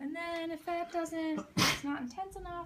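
A single sharp sneeze bursts out between stretches of a person talking, close and loud against the steady speech.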